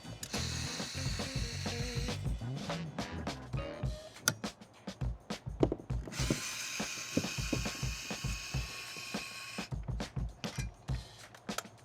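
A screwdriver, likely powered, takes the old backup camera off a 34 ft travel trailer, giving steady ratcheting, whirring turns in close bursts with clicks and taps between them, and no talking.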